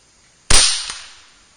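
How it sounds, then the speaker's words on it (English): A .25-caliber Air Venturi Avenger air rifle loaded with Predator Polymag pellets fires once outdoors at a 65-yard target: one sharp, loud crack close to the mic, a faint tick just after, and a decaying tail, with no talk. "So let me shut up and start shooting here. Here we go, 65 yards."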